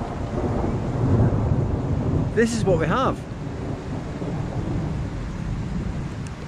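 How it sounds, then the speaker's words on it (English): An afternoon thunderstorm in Armenia rolls through as a deep, continuous rumble with gusty wind noise, while someone speaks briefly over it midway. "little bit of thunder and lightning. Sometimes it's nothing, sometimes it's quite intense."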